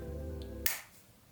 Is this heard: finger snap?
yes